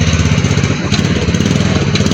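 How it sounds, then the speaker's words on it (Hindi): A motorcycle engine runs close by in a busy, crowded bazaar, a loud steady idling thrum with slight rhythmic pulsing and no talk over it. "मोटरसाइकिल अब निकाल रहे हैं,"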